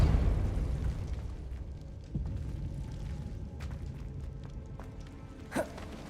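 A force-push spell cast in the Hogwarts Legacy game: a loud blasting burst at the start that decays into a rumbling tail, followed by scattered softer pops and one sharp crack near the end.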